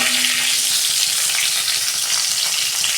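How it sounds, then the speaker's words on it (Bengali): Pieces of pointed gourd (potol) frying in hot oil give off a dense, continuous sizzle that stays loud and even throughout, close up and with no voices. "তেল গরম হয়ে গেছে, পটলগুলো ভেজে নিচ্ছি"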